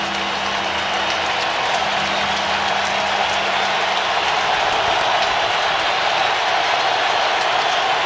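Crowd at an NFL game between the Los Angeles Rams and the Indianapolis Colts in the home stadium, a loud continuous roar of cheering that holds steady and swells slightly, with no voices standing out.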